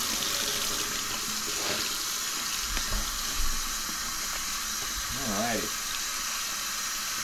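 Tap water runs steadily into a sink while a tie-dye shirt is rinsed, a continuous close wash with a brief spoken word over it.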